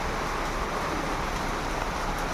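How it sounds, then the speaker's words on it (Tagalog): Steady rain pours down outside a house at night, a dense, even hiss of drops on surfaces that holds at a constant level with no voices over it. "Ayan, umulan na."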